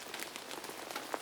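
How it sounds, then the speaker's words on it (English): Rain falls steadily onto the material of a raincoat, a close, soft patter of many small drops with a few brighter individual taps, alone without voices. "listened to the sound of the rain falling onto the material of his raincoat"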